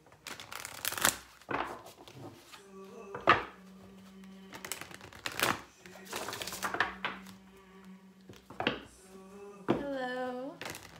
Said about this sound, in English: I'm just going to shuffle my decks here as we wait.